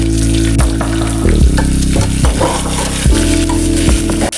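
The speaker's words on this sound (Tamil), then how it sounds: "நல்லா வெங்காயம் பொன்னிறமாக வர வரைக்கும் வதக்கிக்கலாம்" Sliced onions and green chilies sizzle loudly in a pan for mushroom biryani, a close, steady frying crackle with stirring scrapes throughout and a short dip at the very end, no voices.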